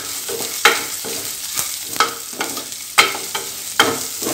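Green chillies sizzling in a hot pan while a spoon stirs them, giving a steady fry hiss broken by sharp scraping strokes about every half second, close and loud.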